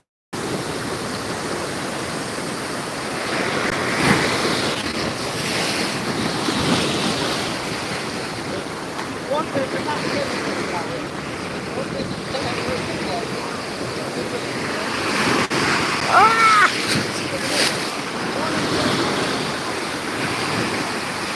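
Sea waves roll onto Gandhi Beach in Pondicherry, a continuous broad surf roar with swelling surges, heard close and loud; a voice talks faintly beneath the wash.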